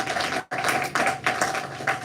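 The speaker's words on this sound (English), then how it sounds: "Help me welcome Zach with a round of applause." Audience applause welcoming Zach to the front at an evening MLK Day event in Sioux Falls, a steady patter of clapping across the room with a brief break partway through.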